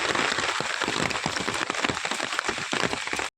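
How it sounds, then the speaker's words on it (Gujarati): Heavy, continuous rain pours down over flooded fields and a waterlogged road, a dense steady hiss of drops close by that cuts off abruptly at the very end. "લગભગ રાતે 3 વાગ્યાથી ચાલુ છે વરસાદ, અત્યાર સુધી કન્ટિન્યુ એક ધાર્યો."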